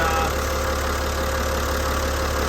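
A freshly repaired engine runs steadily at idle after an oil leak fix, a loud, continuous, even drone with no break and no voices.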